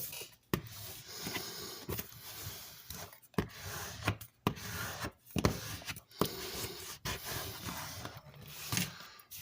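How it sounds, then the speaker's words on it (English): A paper cover on a handmade mini album being burnished down with firm rubbing strokes, a steady series of dry, close scraping passes broken by brief pauses. "Now I just need to go ahead and burnish that down real well."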